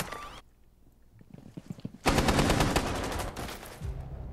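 Rainbow Six Siege gunfire: a brief loud shot opens, followed by quieter clicks, then a dense, close automatic burst of rapid shots lasting over a second before a lower rumble takes over.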